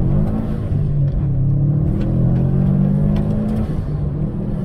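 A manual Mitsubishi Evo X accelerates hard through the gears on a dirt surface, its engine a loud, close, steady roar with pitch rising and dropping at the shifts.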